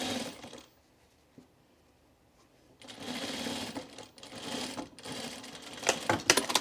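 A sewing machine stitches along a shirt edge in short bursts, first a brief run, then a quiet pause, then several longer close whirring runs with needle chatter that grow louder toward the end.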